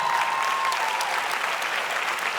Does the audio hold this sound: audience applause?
yes